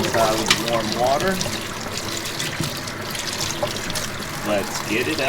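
Warm water rinsing a maroon tie-dye shirt indoors, a steady running splash and trickle under a person's continuous talking.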